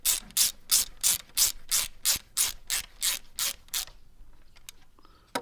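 A ratchet wrench tightening bolts on a car motor mount gives about a dozen rapid, evenly spaced clicking bursts, close and loud, then stops, leaving faint workshop sounds and no talk.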